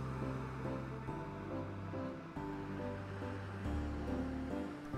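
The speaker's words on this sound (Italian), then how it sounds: "le sue onde ritmate" Rhythmic sea waves wash steadily against the Sardinian coast, a continuous full surf with gentle swells and no voices.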